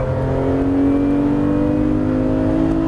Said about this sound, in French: Et on accélère, gaz à fond.